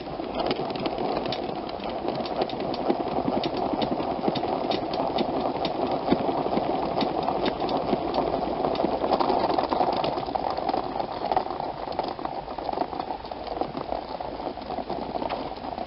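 A salad spinner whirls continuously for about sixteen seconds, a loud, steady rushing and rattling drone with no pauses.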